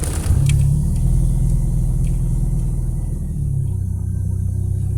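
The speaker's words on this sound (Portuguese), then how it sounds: "Olha que partida bonitinha." A car engine with MegaSquirt fuel injection, running on adulterated fuel, cranks briefly and catches, settling into a steady idle rumble that drops slightly in pitch after a few seconds.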